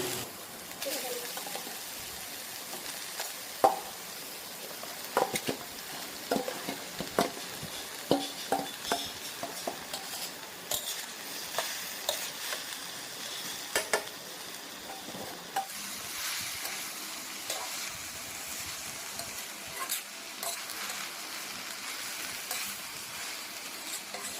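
Grated coconut tossed in a hot wok gives a faint, steady sizzle broken by repeated scraping stirs, close by but soft, with no talking.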